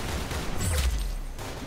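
Gunfire in the video game Arsenal: a dense, close burst of rapid shots with a heavy low thump near the middle, fading into quieter noise, with no voices.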